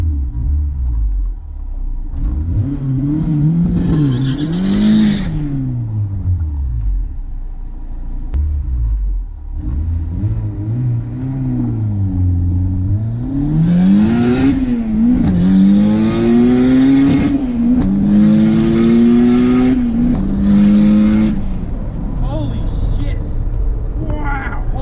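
A Honda CRX Si accelerates hard down a drag strip in second gear, its engine loud and close, climbing in pitch over and over through sustained high-revving pulls and shifts, with a voice heard faintly beneath.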